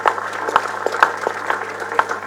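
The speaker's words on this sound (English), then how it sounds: "Let us applaud them with a very loud hand clap." An audience at a political party convention agenda launch applauds with a moderate wash of clapping, punctuated by a few sharper, louder individual hand claps standing out from the crowd.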